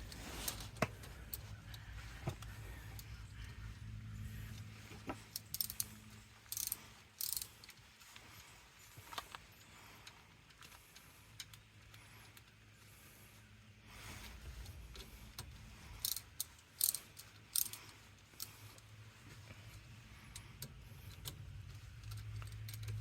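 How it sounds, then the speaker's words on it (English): A wrench tightens caliper slide pin bolts on a car, making faint, intermittent ratcheting clicks and small metallic taps spread across a quiet workshop background. "I'll put them in the rest of the way with my wrench."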